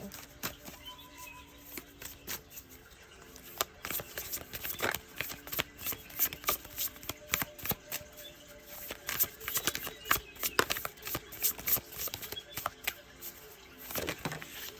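Tarot cards are shuffled by hand for a reading in quick, irregular papery riffles and slaps. The bursts come close and steady, with no voice over them.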